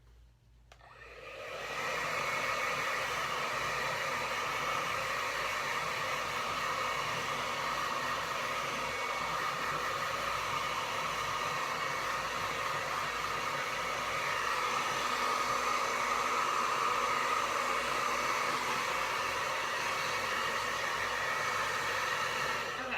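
A hair dryer blows steadily and loudly close by while drying a freshly painted tropical fish painting, a constant whooshing whir that runs unbroken for over twenty seconds after a quick switch-on.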